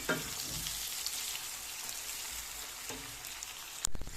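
Food frying in a pan gives a continuous dense sizzle like steady rain, with stirring scrapes and a sharp utensil clatter just before the end.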